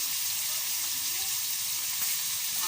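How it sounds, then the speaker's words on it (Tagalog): Milkfish (bangus) sautés with spices in a pan, a steady bright sizzle and hiss running evenly throughout, close and moderately loud. "igisa lang natin yung bangosa sa mga kung ano-anong pampalasa"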